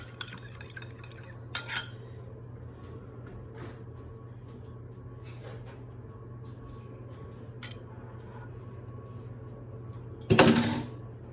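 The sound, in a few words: fork mixing egg wash in a bowl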